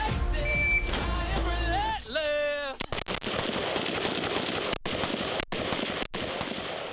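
Rifle gunfire cracks out during live-fire shooting training by an infantry division's mobile company, a run of sharp, loud repeated shots following a whistle-like tone, with voices talking over parts of it.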